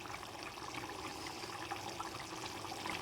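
Chicken curry simmering in a pot, a steady close bubbling and gurgling that runs without a break for the whole stretch.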